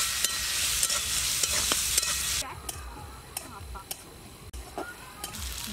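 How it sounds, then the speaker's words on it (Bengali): Turmeric, cumin and dried chili powder being stirred and fried in a pan for a village bean and egg dish, a steady close sizzle with scraping stirs that quietens partway through. "হলুদ, জিরের গুঁড়ো, শুকনো লঙ্কার গুঁড়ো, মশলাগুলো একসঙ্গে ভালোভাবে কষিয়ে নেব।"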